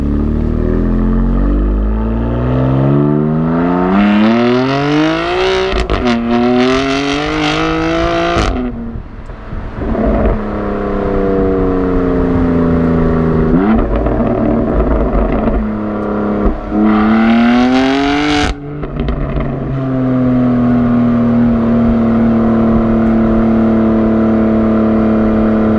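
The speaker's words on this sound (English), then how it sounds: "you've got that great sound from the 3-liter inline turbo. I'll give you a little glimpse of that sound." BMW M4 Cabriolet with its 3-liter inline turbo six revving hard and loud, rising through several sharp climbs and drops in pitch over about twenty-five seconds, then settling into a steady rumbling idle, with no talking.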